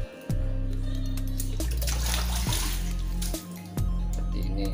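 Water flows steadily, with a strong low droning hum running under it and a few brief dips and knocks in its level.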